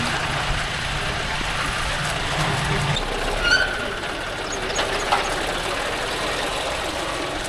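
A John Deere 5105 4wd tractor pulling a 9-tine cultivator through dryland, its engine giving a loud, steady, broadband rumble that changes tone partway through, with faint clanks on top.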